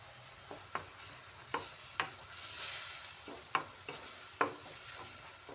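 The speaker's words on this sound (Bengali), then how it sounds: "আদাটা দিয়েও কিছুক্ষণ এভাবে টমেটোর সাথে নাড়িয়ে নিতে হবে" Chopped ginger and tomatoes being stirred in a pan, with a soft sizzle under a series of spaced, crisp spoon scrapes and taps against the metal.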